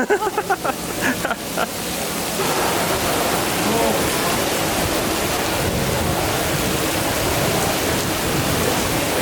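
Heavy rain in Guadalajara, Mexico, a steady loud wash of falling water that begins after a few brief bursts of noise and then holds evenly.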